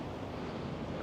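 Rough ocean surf rolling onto a resort beach, a steady broadband wash of waves mixed with wind noise on the microphone, with no one speaking.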